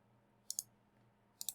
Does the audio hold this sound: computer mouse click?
yes